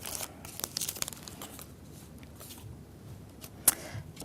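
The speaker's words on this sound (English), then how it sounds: "take the packet with the syringe in and peel it open." Plastic syringe packet being peeled open by hand, a few soft crinkling tears and rustles close up in a quiet room, ending with one sharper snap.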